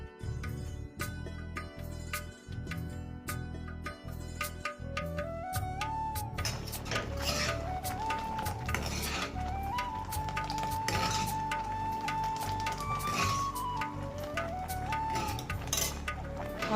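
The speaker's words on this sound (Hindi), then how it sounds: "यहाँ भून रही हूँ दलिया" Broken wheat (daliya) being dry-roasted in a pan, with steady scraping and stirring clinks of a spoon against metal, close and continuous, while music plays throughout.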